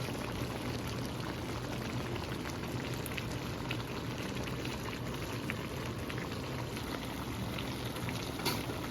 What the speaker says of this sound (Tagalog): Hintayin na natin siyang kumulo